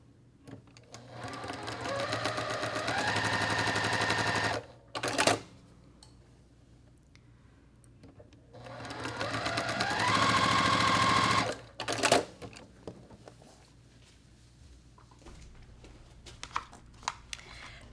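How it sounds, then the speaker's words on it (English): Sewing machine with an open toe foot stitching two quilt block pieces together, running in two steady whirring bursts of several seconds each with pauses and small clicks between. "You're going to go back to an open toe foot and stitch those 2."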